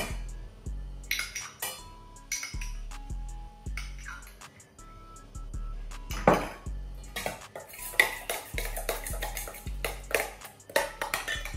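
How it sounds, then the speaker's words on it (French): Blended garlic and parsley mixed with olive oil in a bowl, heard as a long run of clinking and scraping utensil strokes against the dish, some ringing, close and busy, with no talking. "Je vais le mélanger avec de l'huile d'olive"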